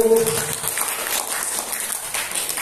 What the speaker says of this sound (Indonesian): Baik, tepuk tangan yang mulia Bapak Ibu.